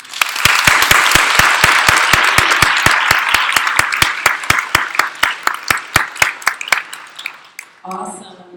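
Audience applause for a speaker at a 2019 communications summit. Loud, close claps come in a brisk, even rhythm, then thin out and fade, and a voice begins speaking right after.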